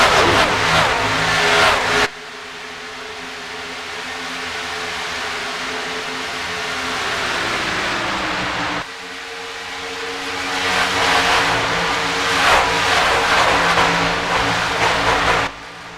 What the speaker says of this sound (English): how hard they're driving the truck into the corner, you're going to see a lot of trucks start sliding it in